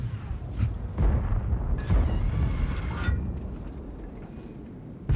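Tank cannon fire in a tank combat game, several heavy booming blasts spread across a dense rumbling battle backdrop, fairly loud, with sharper bursts near the middle and end.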